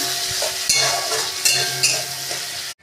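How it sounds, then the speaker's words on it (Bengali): Finely chopped onion, garlic, ginger and tomato sizzle loudly in oil with a steady dense hiss and a few stirring scrapes, close up, before cutting off abruptly. "টমেটোটাও একটু ভেজে নিচ্ছি।"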